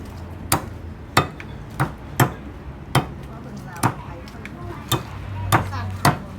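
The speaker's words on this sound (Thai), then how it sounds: "โขลกเข้ากันจ้ะ" Sharp, regular pounding thuds of a pestle pounding herbs in a mortar, about ten strikes at a steady rhythm, close by with faint background noise.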